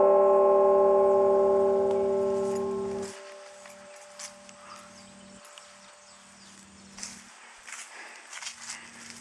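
A cemetery bell dedicated to a family rings at Forest Hills Union Cemetery in Piqua, Ohio, a loud sustained tone that cuts off after about three seconds, leaving faint outdoor ambience with scattered small sounds.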